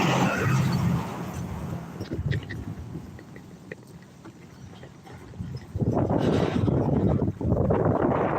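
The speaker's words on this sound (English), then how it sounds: "At least it's a little windy." Headwind buffets the microphone in loud, rough gusts on a Broadway street, easing in the middle and surging back strongly near the end, with traffic-like rumble beneath.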